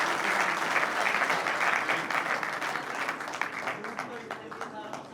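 A crowd at a Hindi poetry gathering applauds loudly and steadily, a thick wash of clapping that stays strong throughout, with a few voices rising faintly within it toward the end.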